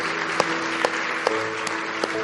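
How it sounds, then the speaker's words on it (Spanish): A church audience applauding, a steady, dense wash of clapping at moderate level with a few sharper individual claps standing out and a faint sustained tone underneath. "Un aplauso fuerte."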